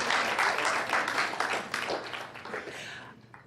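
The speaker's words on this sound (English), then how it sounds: "I love the applause" A church congregation breaks into applause, loud dense clapping at first that gradually thins and fades out toward the end.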